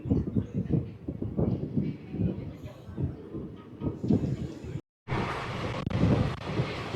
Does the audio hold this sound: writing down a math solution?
no